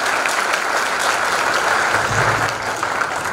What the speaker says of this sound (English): give a big round of applause for yourself.